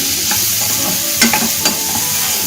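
Food sizzles steadily in a kadai on a low flame for potato thokku, with loud continuous frying hiss and a few scraping stirs of a spoon close by.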